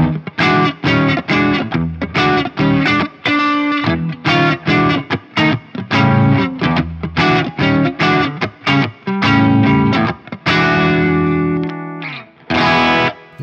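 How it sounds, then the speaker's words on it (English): Yamaha GW10 multi-effects overdrive on electric guitar: a run of punchy, moderately driven chord stabs and short strummed phrases with brief gaps, ending on a couple of longer ringing chords, loud and close with no voices. "I think some of the overdrives are really nice on here."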